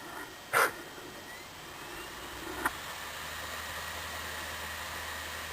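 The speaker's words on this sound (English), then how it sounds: "whenever this thing's about to like dim its screen or something, it has to rev up its disk drive" A laptop's disk drive spinning up, a soft steady whirring hum that lingers in a quiet room, with a couple of brief clicks early on.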